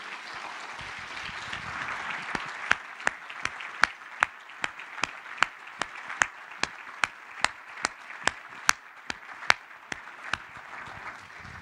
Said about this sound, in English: Let's give a round of applause to Pat Gelsinger.